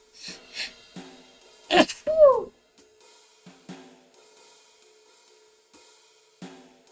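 A single sharp sneeze in the video game Beacon Pines bursts out amid sparse, quiet sounds, followed by a brief wheezy breath, with a faint steady tone in the background.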